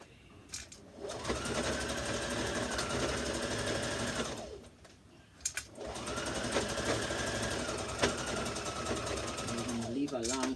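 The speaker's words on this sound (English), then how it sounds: "Now I'm going to stitch the bust dart in place and leave a long thread as well." A sewing machine stitches a bust dart on a red zip-front jumpsuit in two steady whirring runs separated by a short pause, close and clear, with a brief voice at the very end.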